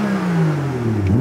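A BMW M2 F87 revs through its stock exhaust, a brief, loud, rising engine note with a deep burbling tone, close by and with no voices over it.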